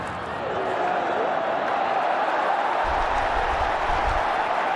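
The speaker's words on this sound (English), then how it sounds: "The crowd are loving it." A large stadium crowd at an India vs Pakistan T20 World Cup cricket match keeps up a broad, continuous roar, with a low rumble rising in the last couple of seconds.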